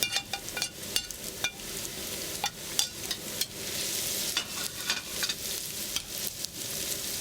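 Lemongrass and shallots stir-frying in a wok over medium-high heat, with a steady close sizzle broken by repeated sharp scraping strokes of a utensil against the pan.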